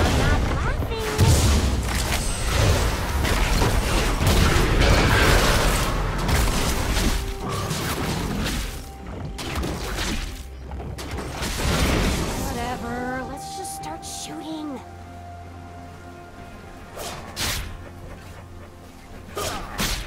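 Bursts of gunfire and booming explosions in League of Legends, dense and loud for the first half, then sparser shots and blasts, with people talking over the action.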